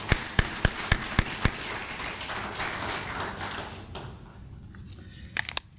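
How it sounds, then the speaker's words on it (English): At a South African Qualification Authority event, an audience applauds Dr. Shishi: a few loud, evenly spaced claps up close, then a softer wash of scattered clapping that fades, with a brief burst near the end. "Can we give Dr. Shishi a round of applause?"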